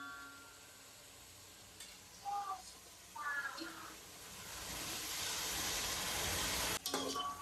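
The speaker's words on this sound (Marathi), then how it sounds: "तसंच आपल्या दुसरीकडे आपला कांदा सुद्धा तिकडे फ्राय होतो" Onions fry in a pan with a steady hiss that swells louder toward the end, broken by a few brief scraping stirs and a sharp knock near the close.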